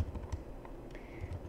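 Computer keyboard typing comes through as a run of quiet, irregular key clicks, close but faint under a steady background hiss.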